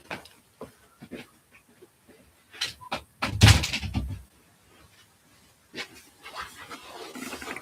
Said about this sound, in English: I was just closing a door there so I can talk.